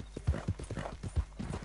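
Horse hooves clip-clop at an even trot in Red Dead Redemption 2, a close, rhythmic series of thuds over a low background hum.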